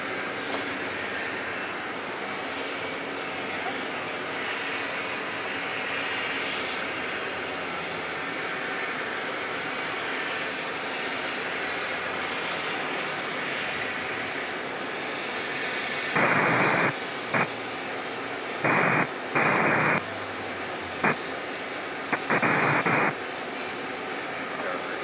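A Southwest 737-800 jet airliner arriving on runway 26 at Phoenix Sky Harbor makes a steady, fairly distant engine drone. Later it is broken by a few short bursts of noise.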